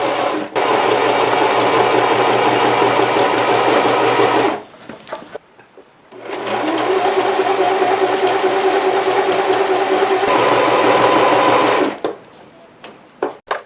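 A sewing machine stitches a fabric bunny in two long, loud, steady mechanical bursts, running for several seconds each, with a short pause between them and a few faint clicks and handling noises after it stops.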